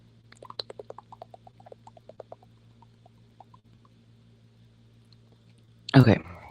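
A person sips water before reading aloud: a run of small wet mouth clicks and slurps, close and quiet, then a short louder breathy gulp near the end.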